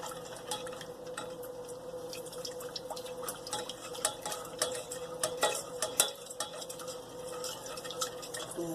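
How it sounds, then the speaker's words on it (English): Honey teriyaki wing sauce being stirred in a pot, with soft scraping and light liquid clinks repeating steadily at close range, with no talk. "Give it a good stir."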